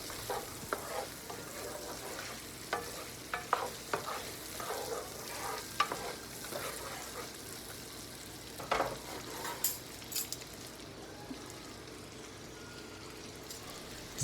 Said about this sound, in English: we're just going to saute these sausages for a little while. Just keep on stirring,